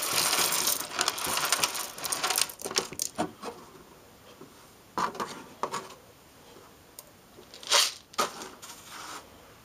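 Raw sunflower seeds are poured into a small container in short rattling bursts separated by pauses, producing a dry, close patter with occasional louder clatters.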